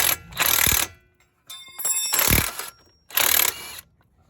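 Socket wrench ratcheting on the 21 mm serrated bolts of a car's CV axle, three bursts of rapid metallic clicking with brief pauses between, close and loud with no talking.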